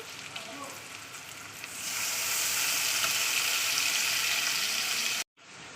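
Loud, steady sizzling of onions and sweet spice mix frying in hot oil, rising in intensity after a moment and cutting off abruptly near the end.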